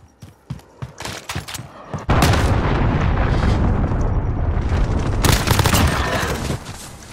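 Cruise missile explosions in the video game Call of Duty Modern Warfare: a few sharp popping shots give way to a long, loud, roaring blast rumble that carries on for several seconds before fading.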